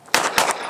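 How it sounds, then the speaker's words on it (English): Two quick sharp reports from a 2011-style handgun with a metal trigger, loud and close with a short ringing tail after each, and no talking. "Grip's interesting for sure, but gun shoots smooth. Shoots like a 2011."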